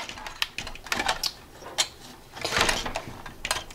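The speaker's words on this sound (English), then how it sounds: "finish screwing all these others down" Screws being driven into a flex controller assembly, heard as a close series of small irregular clicks and ratcheting ticks in quick uneven bursts, with no talking.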